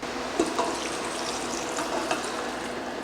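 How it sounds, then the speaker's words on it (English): About three cups of vegetable broth pour into a soup pot of oil-free white bean and Swiss chard soup, a continuous close splashing gush with faint bubbling throughout. "I'm gonna put in about 3 cups of vegetable broth, and that's what's going in now"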